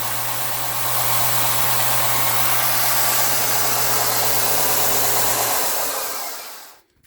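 A Craftsman 6x48 belt sander runs with a steady, loud motor roar and a low electrical hum, then spins down and stops near the end.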